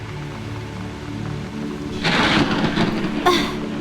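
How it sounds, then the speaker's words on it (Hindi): Wind and rain from a thunderstorm lash outdoors: a steady wash of rain swells into a louder, rough roar halfway through, with a sharp crack near the end. No one speaks. "बाहर तो आंधी तूफान मच रहा है"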